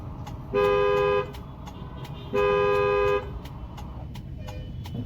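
A car horn in flooded traffic gives two loud, sustained honks about a second apart, over steady engine and road noise.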